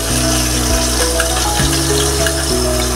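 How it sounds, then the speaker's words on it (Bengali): Poa fish frying in a pan of hot oil, a dense, steady sizzle that crackles loudly and continuously from close by with no pauses. "হালকা হালকা করে ভেজে নিচ্ছি।"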